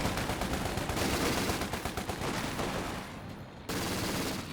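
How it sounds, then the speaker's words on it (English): A Universal Carrier firing in Company of Heroes 2, a dense rattle of machine-gun bursts amid battle noise that eases briefly before another loud stretch of fire, no talk. "The Universal carrier is firing away."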